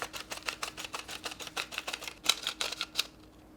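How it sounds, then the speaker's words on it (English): A plastic film developing reel being ratcheted to load 35mm film, giving a close, steady run of dry plastic clicks in quick rhythm that ends with a couple of sharper snaps before falling quiet. "And then we just ratchet again."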